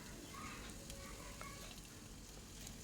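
Tomatoes fry in a pan with a steady, close crackling sizzle, broken by faint scrapes of stirring.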